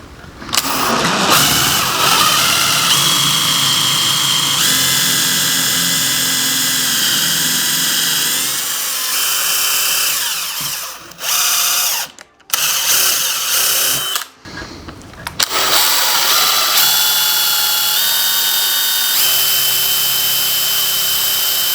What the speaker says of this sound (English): I'm gonna drill a little bit into here, a little bit into the branch